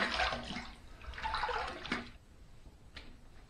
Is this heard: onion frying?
no